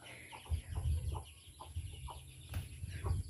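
Chickens cluck softly with chicks peeping around them in a rural yard, a series of low, uneven clucks close by at modest volume, no one speaking.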